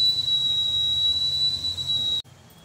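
Pressure cooker whistle while cooking dal for sambar in a kitchen, a sustained high shrill tone that holds steadily for about two seconds, then cuts off abruptly.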